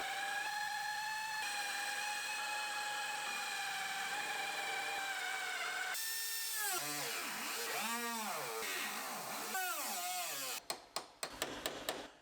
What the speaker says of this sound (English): I'll drill the bottom out.